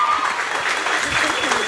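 Steady applause from an audience at a regional beauty pageant in Poland, greeting a contestant as she steps up; continuous clapping fills the short stretch with no pauses.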